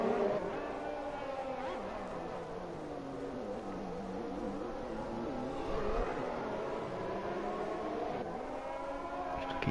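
Engine of an F1 car on fresh soft tyres in an F1 racing video game at Singapore, a faint steady whine rising and falling through gear changes, heard under a commentator's voice.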